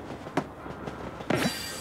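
A train rumbling along in the Paper Mario RPG remake, a steady low running noise with a couple of brief clanking accents, fairly quiet and without talk.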